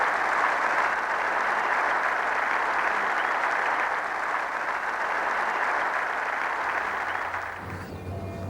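A cricket pavilion crowd applauding Greg Chappell bringing up his century, a sustained, dense, even wash of clapping lasting several seconds before easing off at the end.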